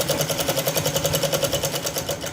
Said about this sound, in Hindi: ऐसे सिलाई लगा देंगे इस तरह से, और इधर भी ऐसे ही सिलाई लगा देंगे।